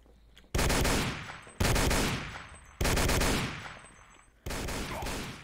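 Four long bursts of rapid machine gun fire ring out in a video game battle, each starting abruptly, rattling loudly for about a second, then echoing away before the next burst.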